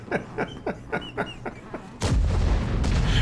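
A tank shell fired in World of Tanks bursts with a loud, sustained roar after a run of rhythmic, regular thumps, close and heavy with no voices.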